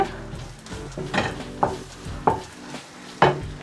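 A spoon stirs turmeric powder into sizzling fried onions in a pan while prawn curry is being cooked, with soft frying hiss under four or five scraping, clinking strokes against the metal.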